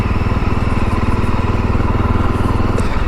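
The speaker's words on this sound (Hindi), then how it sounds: "अब देखो मैंने सेकंड गियर लगा रखा है और मैंने छोड़ दी रेस, ये देखो झटके दे रही है" A Jawa Bobber 42 motorcycle jerks in second gear with the throttle released, its engine loud and close with a pulsing, uneven chug throughout.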